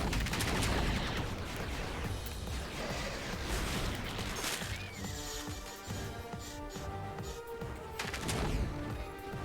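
Rapid gunfire from a character in the Bionicle Heroes video game, a dense, continuous stream of loud shots with sharp bursts throughout and no talking.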